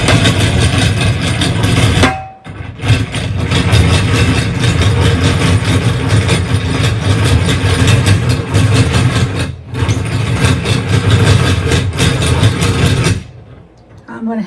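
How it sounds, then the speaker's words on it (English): Loud, continuous mechanical whirring and rattling of a yarn ball winder running close up, cutting out briefly twice before stopping at the end. "I have it pulling from down here up into my ball winder."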